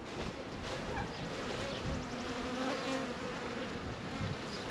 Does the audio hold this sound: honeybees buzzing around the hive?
yes